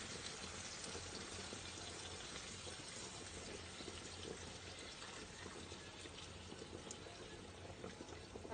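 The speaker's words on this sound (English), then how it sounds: "So just adding the stock to the pan with the onions and the garlic and the bacon." Stock poured into a pan of bacon, onion and garlic for a liver and bacon casserole, a steady broadband liquid rush running at an even level throughout, fairly faint and with no talk over it.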